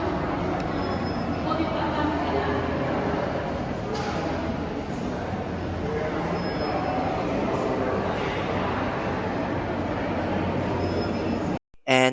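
A mono train runs at Fansipan in Sapa, Vietnam, giving a steady, loud, broadband rumble throughout that cuts off abruptly at the end.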